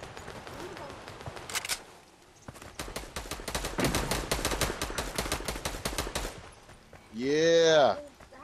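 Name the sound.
gunfire in the video game Fortnite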